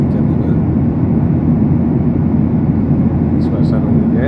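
Inside a Lion Air Airbus cruising on the Solo to Jakarta route, a constant heavy engine and air rumble runs loud and unbroken, with a few faint higher clicks near the end.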